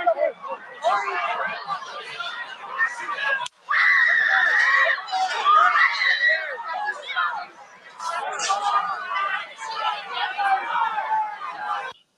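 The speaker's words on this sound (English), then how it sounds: "With the audio, you can see people screaming." Crowd at a Trump rally screaming and shouting in panic after gunshots, loud dense overlapping voices with sharp shrieks, surging and fading across the stretch.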